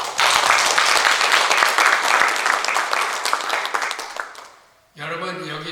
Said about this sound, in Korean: 박사님께 감사 박수를 드려요.